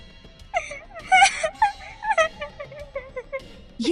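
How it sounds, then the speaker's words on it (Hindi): A woman's wailing, moaning cry drifts from a washroom, rising and falling in drawn-out sobbing whimpers over about four seconds, eerie and isolated, in a horror story. "ये रोने की आवाज तो वॉशरूम से आ रही है।"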